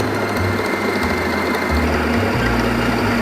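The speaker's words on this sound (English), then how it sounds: "We will use the whisk attachment for this whipping cream." Stand mixer with a whisk attachment whipping cold cream, a loud steady mechanical whir close by with a rhythmic motor pulse and no talking.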